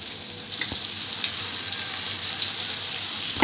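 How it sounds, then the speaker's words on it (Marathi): Fish sizzling as it fries in oil in a pan, a soft, continuous crackling hiss at moderate loudness with a few faint pops and no voices. "आता मी तेल घालते. आता आपण मच्छी फ्राय करू."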